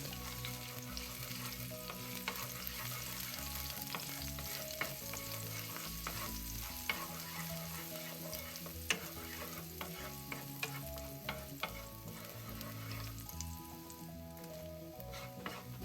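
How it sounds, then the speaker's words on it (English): Minced garlic frying in a tablespoon of vegetable oil in a pan gives a faint, steady sizzle with light stirring, set under soft background music. "In the same pan, I've added about 1 tablespoon of oil, and it's vegetable oil, and I'll put in the rest of the minced garlic."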